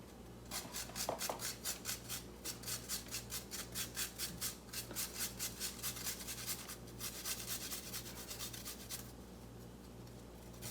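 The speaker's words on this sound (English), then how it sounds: "just use a cheese grater because it works pretty good" Cauliflower is rubbed over a cheese grater in quick, regular rasping strokes, a steady scraping rhythm that runs through most of the stretch with a brief pause midway, close and fairly quiet with no talking.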